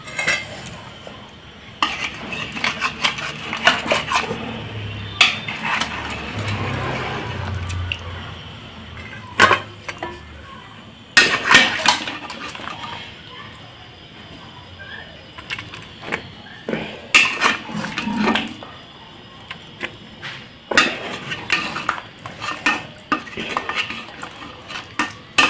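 Chicken curry is spooned and scraped from a pot into a tiffin box, with a series of sharp metal clinks and scrapes in irregular bursts, close and fairly loud, and quieter handling between them.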